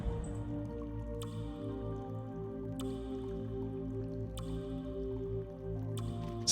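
Single water droplets dripping at slow, regular intervals in the video game The Longing, each drip a faint, soft tick over a steady low musical drone, with no talk.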